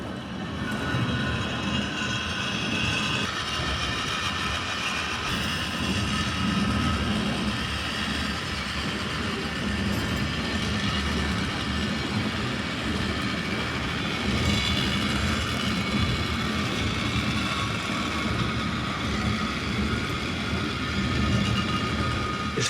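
Water-powered cliff railway lift between Lynton and Lynmouth, in use since 1890, running with a steady, continuous rumbling mechanical noise that holds at an even level throughout, with no talking.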